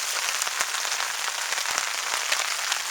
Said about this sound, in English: it's raining pretty good